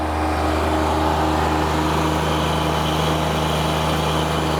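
A Kubota zero-turn mower engine roars steadily at full throttle, loud and close, with a constant droning hum and no pauses.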